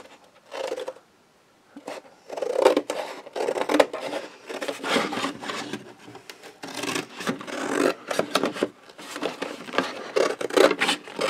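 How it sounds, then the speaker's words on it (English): Scissors cutting through paper or card, a steady run of short snipping and rasping strokes close by, with a brief pause early on and no talking. "Just get my scissors, and then we're going to cut this out."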